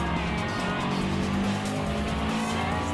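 A Subaru Impreza in Gran Turismo Sport holds a steady engine drone with faint tyre squeal as it pushes through an inside turn, loud and continuous without speech.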